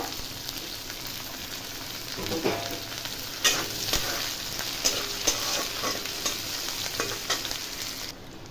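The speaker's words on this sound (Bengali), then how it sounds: "দিয়ে দেবো ওখানে 8-10টা কারি পাতা, দেবো কিছুটা পেঁয়াজ কুচি, ভালো করে ভেজে নেব।" Chopped onion and curry leaves fry in a pan of oil with spluttered mustard seeds and green chilli, a soft steady sizzle broken by louder scrapes and clacks of stirring.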